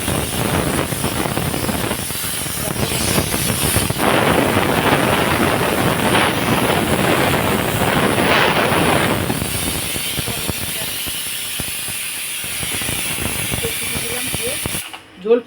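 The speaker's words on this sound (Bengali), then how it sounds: "প্রেশারে ভাপটা বার করে দেখি" Steam hisses loudly and steadily from a kitchen pressure cooker of fish curry, a broad rushing release that eases into a softer hiss before cutting off near the end.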